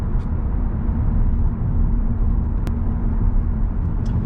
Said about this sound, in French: un peu mieux là au ralenti avec la voiture qui est arrivée à température